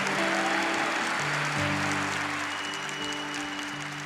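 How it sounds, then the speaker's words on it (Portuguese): A standing ovation from an audience at a Catholic talk on Mary, dense sustained clapping filling the room, with a held tonal drone from music or an organ underneath that shifts pitch partway through. "Isso, pode aplaudir de pé."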